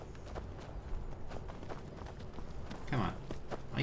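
Horse hooves clip-clop in the video game Skyrim, a quiet, steady run of hoof strikes with a slightly louder cluster near the end, set against a low background murmur.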